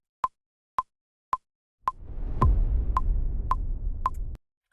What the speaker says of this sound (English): let's have a listen with a click here